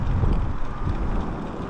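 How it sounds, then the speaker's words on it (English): Steady wind buffets the microphone during an outdoor ride on a Jetson Atlas Pro ebike, a loud continuous low rumble with no talking. "It's a bit windy today, but it's not very windy though."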